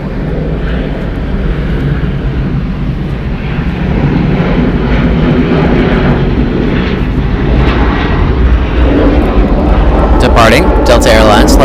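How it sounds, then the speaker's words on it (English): Delta Airlines Boeing 737-900ER jet at Atlanta Hartsfield-Jackson International Airport, a steady loud engine roar filling the whole stretch, with a voice talking over it. "Delta Airlines flight 874 going to Boise. It is a Boeing 737-900ER, 8 years old."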